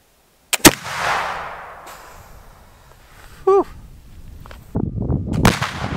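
A single sharp, loud flintlock rifle shot fired at a hockey puck, with a brief ignition crack just before the main blast and a decaying outdoor echo; a short voiced sound follows later.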